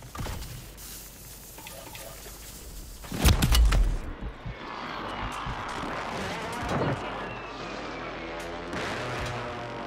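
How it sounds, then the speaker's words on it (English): Enemy precision airstrike lands in Call of Duty Warzone Resurgence: a sudden heavy blast around the three-second mark, then a rumbling, crackling aftermath with debris and distant gunfire, while faint voices talk underneath. "Enemy precision airstrike."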